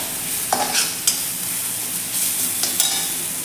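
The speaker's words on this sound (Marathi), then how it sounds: "यामध्ये तेलामध्ये छान असे 1 मिनिटभर असे परतून घेऊयात." Ground masala paste frying in oil on a low flame before ridge gourd goes in, giving a soft, constant sizzle broken by a few sharp spatula scrapes and clicks.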